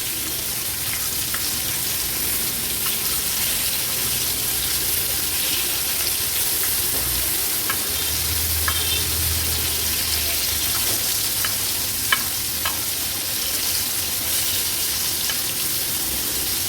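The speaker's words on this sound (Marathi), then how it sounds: "आता मागची बाजू देखील आपण अशीच फ्राय करून घेणार आहोत" Bombay duck fish frying with garlic in a pan, a steady close sizzle with light crackles and occasional clicks of handling, continuing alone without talk.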